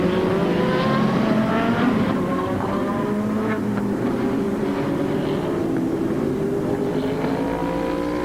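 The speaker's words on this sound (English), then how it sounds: "76 Dale and Schrader are battling now for the 3rd place position" IMSA GTO race cars at Del Mar in 1990, engines droning steadily at close range as the cars battle for third place, with overlapping tones rising and falling throughout and no talk.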